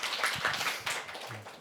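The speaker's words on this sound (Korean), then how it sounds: "오늘의 주인공 이슬아 작가를 향해서 다시 한번 박수 부탁드리겠습니다." Brief, soft applause from a library audience welcoming author Lee Seula at a talk event, a quiet patter of hands, with no one speaking.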